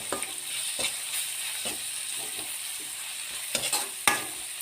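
Spoon scraping and stirring pepper masala with ground pepper and salt in a pan for Alleppey-style karimeen pollichathu, quiet steady sizzle under a few sharp clinks of utensil against the pan, no voices.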